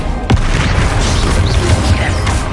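Spell blasts from Confringo and Bombard casting in Hogwarts Legacy go off as a dense, loud rumbling explosion with a sharp burst near the start, sustained booming and crackling debris throughout.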